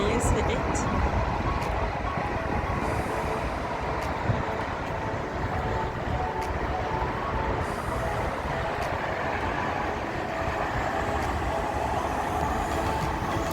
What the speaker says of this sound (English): You see the train passing?